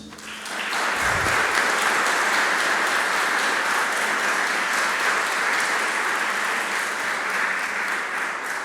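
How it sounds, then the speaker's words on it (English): An audience claps steadily for a violinist at a vocal arangetram recital in Austin, Texas, in sustained applause that swells quickly and holds at an even level throughout. "I'd like you all to give applause to our violinist."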